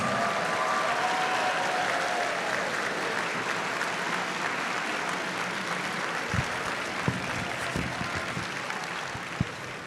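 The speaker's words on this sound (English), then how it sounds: "please give all our decathletes a warm round of applause" An audience at a national academic decathlon gives the decathletes a warm, sustained round of applause, steady broadband clapping that slowly tapers, with a few sharper claps near the end.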